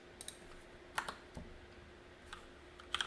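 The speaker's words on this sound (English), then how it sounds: "I'll type in yes." Keys tapped on a computer keyboard while entering commands, a few quiet scattered clicks in short bursts with pauses between, close and isolated, no voices.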